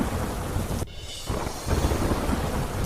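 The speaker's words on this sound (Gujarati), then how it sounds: "ગીર સોમનાથના વેરાવળમાં ધોધમાર વરસાદ." Heavy monsoon rain pours down in Veraval, Gir Somnath, as a dense, loud, steady roar with a brief dip near the start, and no voices.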